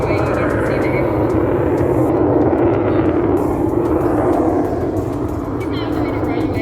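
An aircraft at an airshow roars loudly and continuously overhead, a broad steady engine noise rising and easing slightly, with a voice talking under it.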